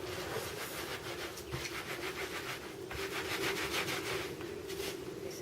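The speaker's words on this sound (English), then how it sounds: "So just rubbing it in lots of different directions." Wet wool felt is rubbed with soap and water in many directions, giving a continuous close, rasping friction sound with rhythmic back-and-forth swells and no voices.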